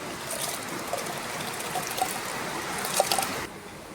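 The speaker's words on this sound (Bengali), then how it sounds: "ভাতের জলটা গরম হয়ে গেছে, এখন চালটা ধুয়ে নিয়ে চলে এসেছি, এখন দিয়ে দেবো" Washed rice is tipped into a pot of hot water, making a close, continuous trickling and splashing with a few small drips before it stops abruptly.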